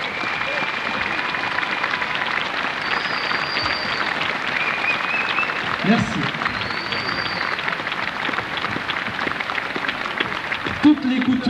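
Crowd applause fills the air at an open-air son et lumière pageant in Brebotte, a steady dense patter of many hands clapping throughout while a voice speaks over it briefly.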